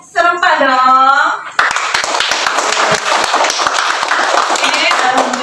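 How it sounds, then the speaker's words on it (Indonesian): Schoolchildren in a classroom clap their hands together in unison, a run of sharp, fairly regular claps after a brief sung or called-out phrase from the class at the start. "Oke, tepuk tangan semuanya. Tepuk tangan ya, silakan dulu. Tepuk tangannya yang serempak dong."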